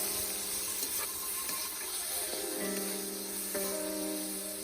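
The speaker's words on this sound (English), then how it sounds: "I'm gonna add the tomatoes." Tomatoes dropped into frying onions set off a busy sizzle with popping and crackling, steady and close, and tonal kitchen hum running underneath.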